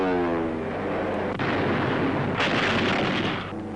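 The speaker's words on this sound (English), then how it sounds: "the fleet throws up a barrage of anti-aircraft fire" Soviet fleet anti-aircraft guns fire a barrage, heavy booming blasts and crackling bursts layered over a dense rumble, with a sharp report near the middle and another burst later, loud and continuous with no voices.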